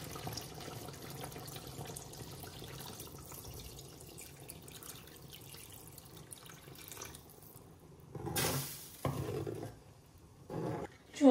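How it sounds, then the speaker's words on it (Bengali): Water poured into a pan of chicken fried rice, splashing and gushing near and loud in short bursts after a quieter stretch of low background noise. "এখন এটার মধ্যে জল দিলাইমো"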